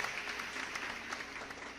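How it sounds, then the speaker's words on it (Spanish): Congregation applause at a church service, a steady wash of many hands clapping from a distance, fairly faint and continuous with no voices over it. "Den ese aplauso al Señor"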